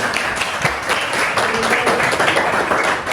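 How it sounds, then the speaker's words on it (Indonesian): Schoolchildren clap together in a classroom, a short burst of quick, uneven hand claps from a group nearby, with a faint voice underneath. "beri tepuk tangan anak-anak"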